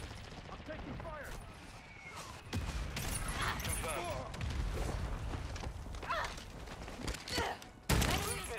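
Gunfire and explosive booms from Call of Duty: Modern Warfare II ring out in scattered bursts amid constant radio chatter and voices, with a heavy blast hitting near the end.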